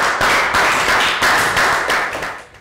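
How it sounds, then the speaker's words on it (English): A class claps through a second round of applause in a Year 3 English lesson, a steady close burst of hand claps that tapers off at the end. "Round of applause again."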